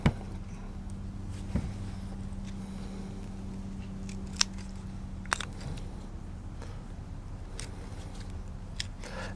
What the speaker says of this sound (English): these scissors are actually for aluminum